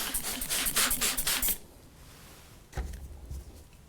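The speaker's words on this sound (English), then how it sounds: "I'm just going to generously spray this onto my screen." Glass cleaner mixed with water is sprayed generously onto a screen-printing screen in quick, close bursts of hissing mist for about a second and a half, then a quieter pause and one shorter spray.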